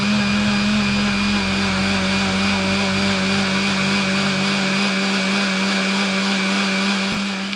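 A mixer grinder jar churns cream with ice-cold water into butter, a loud, steady motor whir that runs unbroken throughout.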